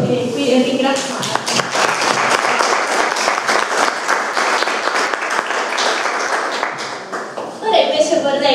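An audience gives warm applause for an artist at a Galleria360 art presentation: a dense, sustained round of clapping lasting several seconds, with voices talking underneath and rising again as it fades near the end.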